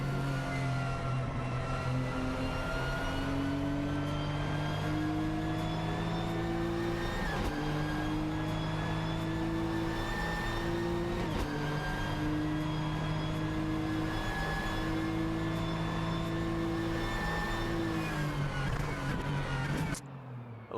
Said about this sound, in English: I love the sound of the GTR.